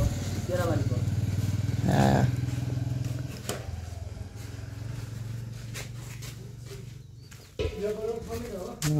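A 220cc motorcycle engine idles steadily after an air filter repair, a close, continuous low hum with a brief rev, while people talk nearby.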